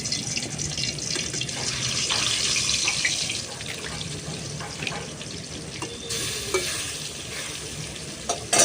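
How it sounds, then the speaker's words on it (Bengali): Steady, loud sizzle of katla (carp) pieces frying in hot oil, with occasional scrapes and clinks of a utensil in the pan; no one speaks. "এই দেখো এখানে কিন্তু মাছটা ভাজা হচ্ছে"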